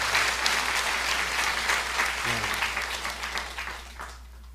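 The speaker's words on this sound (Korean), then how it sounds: "요 대목이 박수 대목이에요." A church congregation at a pastor's sending-off service breaks into sustained applause, a dense wash of clapping that stays loud and then fades toward the end.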